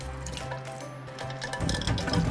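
Oden broth from a vending-machine can poured into a pot, a steady close liquid stream that thickens into a fuller, louder splash during the last second.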